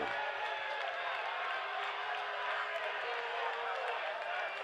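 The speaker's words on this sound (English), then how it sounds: "The crowd don't like it. The boos ring out." Soccer stadium crowd booing a referee's decision at Saint Louis FC versus FC Cincinnati, a broad sustained roar of disapproval filling the stands, with a commentator's voice over it.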